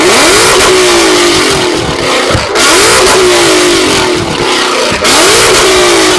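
A car fitted with an exhaust spark-plug flame kit revs hard and loud, rising in repeated sweeping bursts about every two and a half seconds, with sharp pops and bangs as the throttle snaps shut between each rise.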